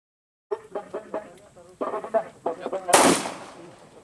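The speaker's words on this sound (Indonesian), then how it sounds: "melaksanakan lomba menembak pistol" Several voices talk at a military pistol shooting competition, then one loud, sharp pistol shot cracks out nearby and rings briefly.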